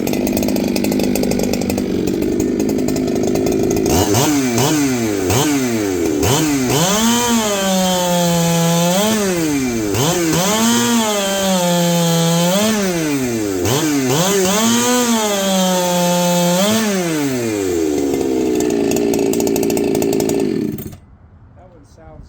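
A big chainsaw with a snappy muffler roars close by, revving up and down in repeated rising and falling surges before settling to a steady drone and cutting off abruptly at the end.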